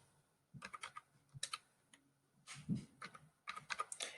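Typing on a computer keyboard during spreadsheet data entry, with short clustered bursts of close, quiet key clicks separated by brief pauses.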